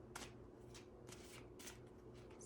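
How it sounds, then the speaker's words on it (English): Tarot cards being shuffled by hand, a series of soft riffling bursts repeating at a steady pace, close and quiet over a low background hum. "I've shuffled them and shuffled them"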